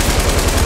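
Rapid light machine gun fire in the video game Fortnite, a dense, loud burst of repeated shots lasting under a second with no talk.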